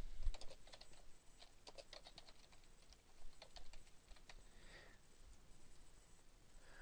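A name typed on a computer keyboard, with quick irregular key taps that come close and fairly quiet over a steady background hiss, and no voices.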